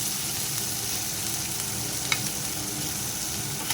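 Tomatoes fry over a low flame in a pan, giving a steady, even sizzle broken by a couple of faint utensil clicks, with no voices.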